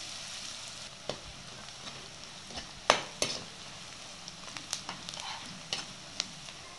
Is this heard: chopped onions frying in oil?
yes